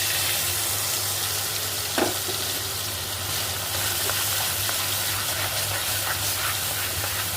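Onion chilli paste hits hot oil with mustard seeds, cumin and turmeric for a spinach chicken curry, giving a loud, continuous sizzle with occasional stirring scrapes and a steady low hum beneath.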